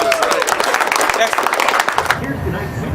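Hand clapping mixed with a roaring football crowd fills the first two seconds, dense and loud, then drops away to quieter background sound.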